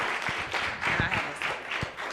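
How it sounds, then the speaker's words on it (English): A small audience at a Martin Luther King Jr. Day of Service event gives a short round of applause, with sparse, uneven claps close by and some faint voices mixed in. "let's give her a round of applause"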